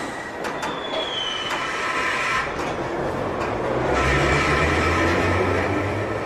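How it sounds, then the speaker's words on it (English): A London Underground train pulls away from a platform, its rumble and rising wheel and motor noise building steadily with a faint squeal, close and loud, with no voices. "This train is ready to depart."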